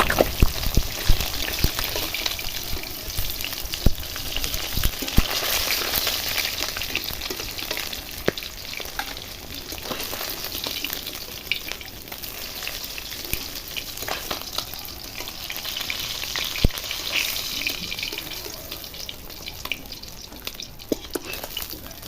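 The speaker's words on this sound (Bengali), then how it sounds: "চলো এবার মাছগুলো ভেজে নিই।" Pieces of catla fish fry in hot oil, a steady dense sizzle and crackle lasting throughout with occasional sharp pops, close and fairly loud, no talking.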